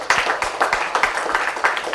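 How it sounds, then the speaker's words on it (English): Rhythmic group clapping for Team Bhilai at an NSPCL executive talent competition grand final: even, regular claps about three per second, in unison over two seconds, fairly close and clear. "Please give them a big round of applause"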